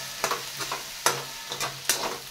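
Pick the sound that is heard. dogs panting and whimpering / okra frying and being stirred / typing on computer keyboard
okra frying and being stirred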